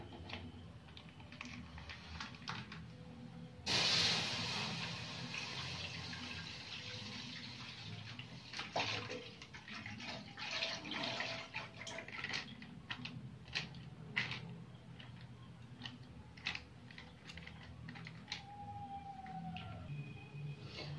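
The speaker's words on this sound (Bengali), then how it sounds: "এবার আমি দুধটা ঢেলে দেবো" One litre of milk poured into a kadai pan for making rasgulla, a faint liquid pouring and splashing sound running steadily with small clinks, no talking.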